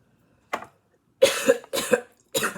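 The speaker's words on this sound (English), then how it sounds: "Why am I coughing so much with this shit?" A person coughs in four harsh bursts separated by short silences, close and loud, the later ones longer and raspier.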